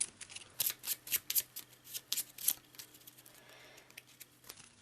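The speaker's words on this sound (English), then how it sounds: "so I'll give it a quick shuffle." A generic encounter deck of cards from the Eldritch Horror board game is shuffled at a table, giving a quick series of crisp riffling bursts that stop partway through, leaving quiet room tone.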